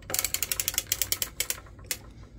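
A circular sock knitting machine being cranked, a quick run of sharp, close mechanical clicks ticking rhythmically, then slowing to a few isolated clicks.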